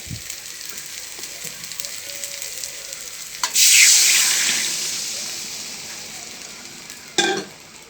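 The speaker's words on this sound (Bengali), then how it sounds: "এখন এর মধ্যে পরিমাণ মতো জল দিয়ে দেবো" Water splashes into hot frying masala for a mackerel curry, setting off a sudden loud hiss that slowly fades, with a brief second sizzle burst near the end.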